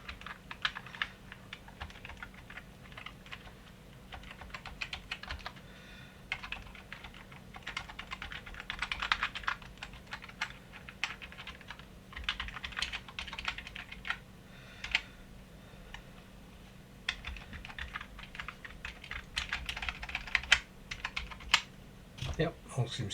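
Rapid clicking keystrokes on a Sinclair ZX Spectrum+ keyboard being tested after repair, a steady stream of close taps over a low background hum.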